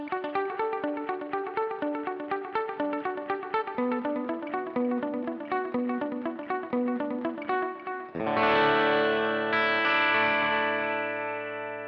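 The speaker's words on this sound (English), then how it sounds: "normally what I would use digital delay for is rhythmic stuff, when I don't want modulation on." Guitar played through a Joyo Aquarius digital delay pedal set for rhythmic repeats: a steady picked pattern with echoes locking into the beat, then ringing chords that trail off in fading repeats, clean and close with no talking.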